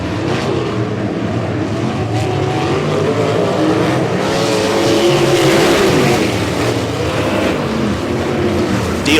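Sprint cars racing at Humboldt Speedway, a POWR WAR Sprint Car League night: loud, continuous engine roar that swells and fades as the cars pass, with a trackside announcer calling the race over it.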